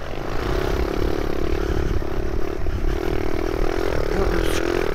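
A dirt bike engine works hard on a trail ride, holding a steady, loud drone throughout with rough, noisy texture and no clear pauses.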